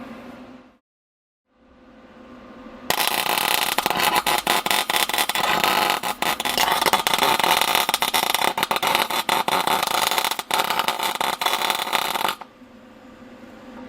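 Tack welding the spider gears of a Sterling 10.5 limited-slip differential gives a loud, steady crackling hiss. It sounds close up, starts after a short quiet lead-in and runs unbroken for about ten seconds before cutting off.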